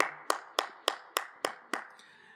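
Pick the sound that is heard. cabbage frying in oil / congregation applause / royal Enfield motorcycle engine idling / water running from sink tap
congregation applause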